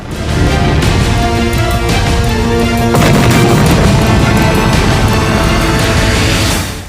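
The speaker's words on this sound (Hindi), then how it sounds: "एक बम सीधा एक गाड़ी पर जा गिरा, जहां जोरदार धमाका हुआ" A bomb strikes a vehicle beside a checkpoint during an airstrike, a sustained loud blast and rumbling roar with crashing debris running the full seven seconds and swelling midway, with no speech.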